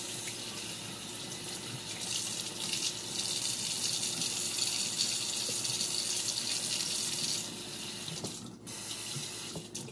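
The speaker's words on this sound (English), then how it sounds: "Give it a good rinse." Vegetable florets are rinsed under a running kitchen tap: a steady, fairly loud gush of water into a sink that briefly shifts and splashes near the end, with no voices.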